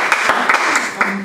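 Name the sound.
audience applause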